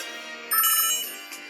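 Phone ringtone ringing in a video game, a short bright electronic melody of a few rising tones that plays alone and clearly for about a second.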